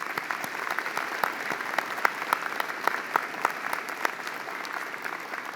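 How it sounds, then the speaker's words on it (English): Steady applause from a convocation audience at a university graduation ceremony honouring Chancellor Stephen Point, dense and even throughout with sharper individual claps popping out, at moderate distance and no speech over it. "Let's give him a real round of applause for a virtual performance."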